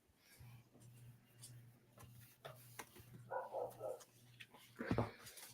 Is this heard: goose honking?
no